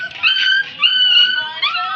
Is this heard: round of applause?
no